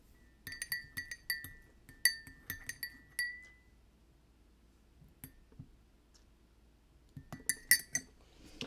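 A spoon stirs loose-leaf English Breakfast tea in a cup, making quiet glassy clinks in quick irregular bursts, then a lull, then another cluster of clinks, with no talk.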